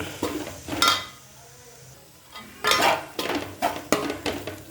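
Chicken pieces get tossed with coriander and chili powder in a pan, making separate scraping and clinking strokes of a utensil against metal with short quiet pauses between them.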